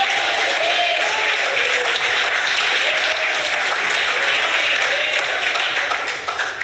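Steady, dense applause from a church congregation during a sermon, loud and continuous throughout with a few voices faintly mixed in.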